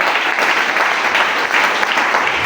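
Congregation clapping and cheering in a church, a dense, steady wash of applause filling the space with no gaps.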